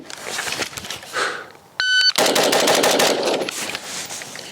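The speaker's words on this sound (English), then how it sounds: "I'm just on the buzzer, going to fire 6 rounds and see how close I can get to being under a second" A PSA JAKL 13.7-inch rifle fires rapid shots outdoors after a shot timer's electronic beep: a burst of loud cracks, then the brief tone, then six fast, evenly spaced shots close by with ringing echoes.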